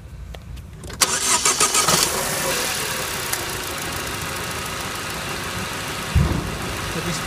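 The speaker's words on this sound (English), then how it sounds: "press to go for starter and start the engine" A car engine cranks briefly, catches and roars to life, then settles into a steady idle that rumbles on.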